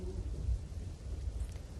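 Heavy rain with wind and thunder in Chikhli, Gujarat: a low, rolling thunder rumble swells and fades under a faint wash of rain, fairly quiet and distant, with no voices.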